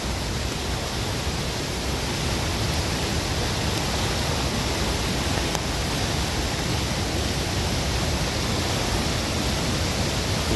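Monroe Falls in Maine sends water rushing over rocks in a dense, steady roar of broadband noise that fills the scene without pause, close and loud throughout.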